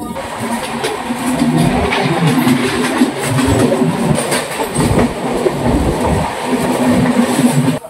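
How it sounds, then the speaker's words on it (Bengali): Tamralipta Express running between Howrah and Santragachi, a steady loud rumble of wheels and carriages with faint rhythmic clatter, continuous throughout. "আমাদের ট্রেন, এখন এগিয়ে চলেছে তার পরবর্তী গন্তব্যের দিকে"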